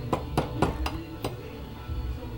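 Five sharp metallic strikes in quick, slightly uneven succession, a hammer beating on a screwdriver, followed by a low rumbling background.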